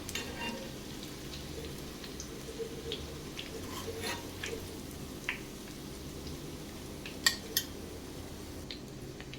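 Brinjal (eggplant) slices fry in hot oil with a soft, continuous sizzle, broken by occasional metallic clinks of a utensil against the pan.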